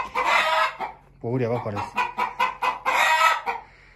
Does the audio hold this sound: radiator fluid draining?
no